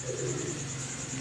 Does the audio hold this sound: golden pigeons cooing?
yes